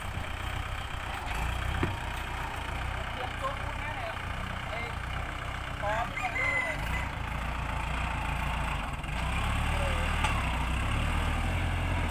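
A tractor engine runs steadily at a yard where a Naga statue is being built, a continuous low throbbing drone with slight rises in level. Faint background voices sit under it.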